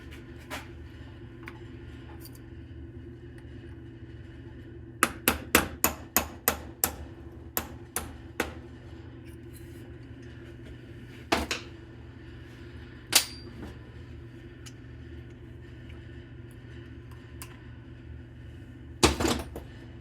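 A hammer knocks the roll pin out of a GM HEI distributor in a quiet space. Sharp metallic taps come in a quick run of about eight strikes, followed by a few scattered single blows.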